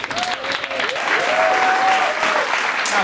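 An audience at a spoken-word showcase claps loudly and steadily, with a whoop or voice rising over the dense applause.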